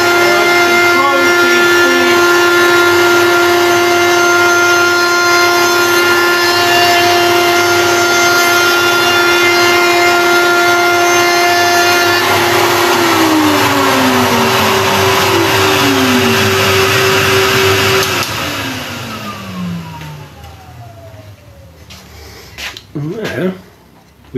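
A router on a router table cuts a double bead profile into wood with a loud, close, sustained motor whine and grinding cut, then the motor winds down to a few final knocks.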